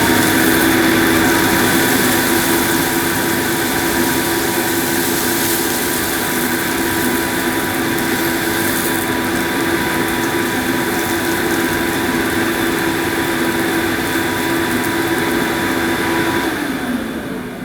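A Goblin Omni 1000 cylinder vacuum cleaner runs on carpet with a loud, steady motor drone and a high whine, holding even throughout before easing off at the very end.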